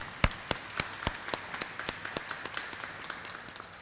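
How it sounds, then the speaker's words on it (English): A small audience at a teachers' awards event claps for a sponsor. The hand claps are sparse and distinct, with one sharp clap standing out early, and the clapping continues irregularly until it thins toward the end. "Let's give GEA a round of applause."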